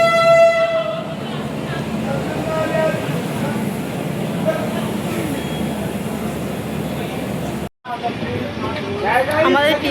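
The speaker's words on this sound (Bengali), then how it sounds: "আমাদের ট্রেন পুরো কারেক্ট টাইমে ছেড়েছে," The Kanchankanya Express 13149 departs, opening with a loud, sustained horn blast over the rumble of the moving train, then a steady rolling clatter with voices talking nearby and a brief cut near the end.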